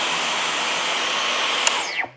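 A handheld vacuum cleaner held on by an on/off switch accessory, running as a steady loud whine and then spinning down as it is switched off, with no voices.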